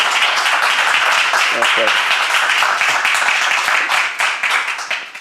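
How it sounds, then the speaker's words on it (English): An academic conference audience at a plenary session welcomes the invited speaker with warm applause, continuous clapping that briefly carries a short spoken word in the middle before fading out. "please receive with a warm applause to Ralph"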